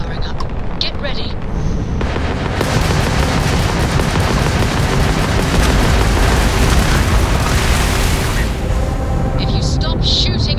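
Spaceship weapons firing during a space battle in Starfield: loud rapid bursts of gunfire and booming blasts forming a dense, sustained barrage, with a voice speaking over the combat.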